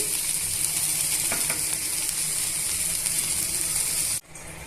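Okra (bhindi) fries in a pan with a steady, close sizzle and faint stirring scrapes, cutting off abruptly near the end as the stove goes off.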